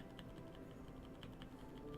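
Typing on an inductive keyboard fitted with MMD switches, a soft, muted patter of keystrokes in quick succession, faint beneath a steady background hiss.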